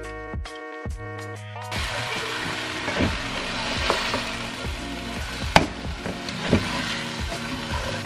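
Potato vegetable curry stirred in a pan, a steady sizzle with scraping spoon knocks against the pan at irregular intervals, preceded by faint music.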